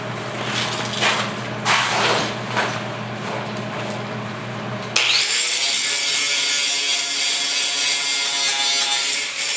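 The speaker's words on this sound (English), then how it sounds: "Now when you're grinding this stuff, just try and grind the welds." An angle grinder with a 1/4 inch disc grinding down welds on rusty sheet metal, a harsh continuous rasp that shifts to a brighter, louder screech midway as the disc bites harder.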